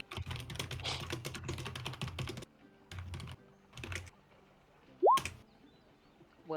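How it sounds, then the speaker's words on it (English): Computer keyboard typing during an online tabletop game session, bursts of clicky keystrokes in several runs separated by pauses, with a brief rising electronic chirp near the end. "Will Duck is typing"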